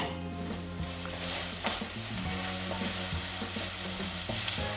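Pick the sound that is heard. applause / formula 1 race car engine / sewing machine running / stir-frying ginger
stir-frying ginger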